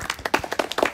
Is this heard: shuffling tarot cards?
no